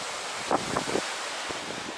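Ocean waves wash against the foot of the Songaksan cliffs on the Jeju coast, a steady rushing surf with wind buffeting the microphone and a few brief splashes.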